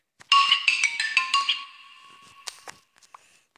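A mobile phone ringtone chimes in a quick run of bright tonal beeps for about a second and a half, then trails off into a few scattered clicks and soft knocks in an otherwise quiet room.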